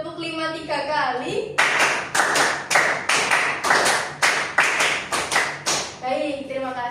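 In a micro-teaching lesson, a class claps in rapid groups of three, a long run of crisp, evenly spaced hand claps, framed by a teacher's voice at the start and end.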